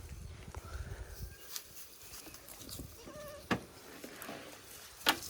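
Goats outdoors give a couple of short, fairly quiet bleats amid low rustling and scattered clicks and knocks.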